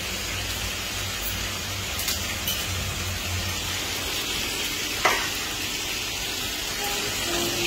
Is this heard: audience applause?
no